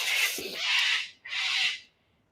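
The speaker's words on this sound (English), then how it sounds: "I've got a lot of birds here." Birds outdoors give two harsh, drawn-out crow-like caws, loud and close, the second following right after the first, then quiet.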